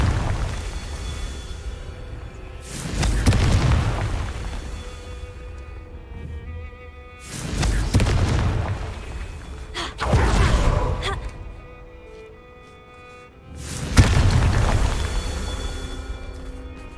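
A fiery Confringo blasting spell in Hogwarts Legacy explodes in loud broad whooshing bursts, four of them spaced a few seconds apart, each swelling and fading with quieter rumbling gaps between.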